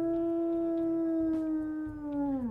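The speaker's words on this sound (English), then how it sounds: "Let's go ahead and listen to his howls as well." A single long, steady wolf howl in the video game WolfQuest that holds its pitch, then bends downward and fades at the end, clear and close.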